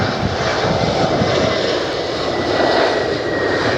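Airplane landing on runway 35 at Lihue airport in Kauai with a 16-knot crosswind, a loud, steady engine roar with broadband rushing noise that stays close and constant throughout, with no voices.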